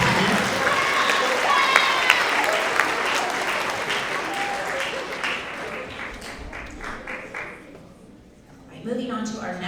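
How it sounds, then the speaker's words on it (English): A middle school audience at a winter award assembly gives a sustained round of clapping that fills the room, then thins out and fades, with a voice starting to speak as it ends. "Let's have another round of applause for all of our Tigers in the quarter in the area of PE."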